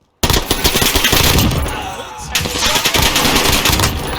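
Rapid automatic gunfire in the video game Call of Duty Warzone, loud and close, starting abruptly after a brief silence and rattling on in fast continuous bursts with a short dip midway.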